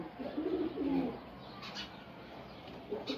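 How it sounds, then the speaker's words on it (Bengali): Pet pigeons in a loft, including male birds in their roosting boxes, give low soft coos, strongest in the first second and then fading to faint murmurs, with a brief burst of higher noise near the end. "আমি এখানে রেগুলার আমার কবুতরগুলো দেখাই।"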